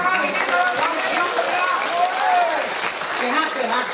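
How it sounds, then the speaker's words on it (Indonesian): A crowd at a Balinese community arts performance at an art centre claps in a steady patter while voices and chatter carry on over the applause throughout. "Oh, tepuk tangan."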